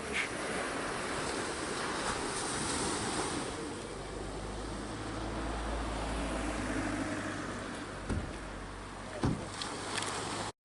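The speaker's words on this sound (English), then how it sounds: "What an absolutely gorgeous beach." Waves wash onto a beach near Carnac in Brittany, France, a steady broad roar of surf mixed with strong wind buffeting the microphone, with a low engine-like hum partway through and no one speaking.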